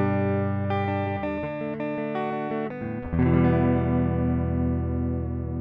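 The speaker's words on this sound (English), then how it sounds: "basically this is the sound of the guitar itself" Mooer GTRS S801 electric guitar with two Alnico single-coil pickups, played clean without onboard effects: a run of picked single notes followed by a strummed chord left to ring out, moderately quiet and with no voices.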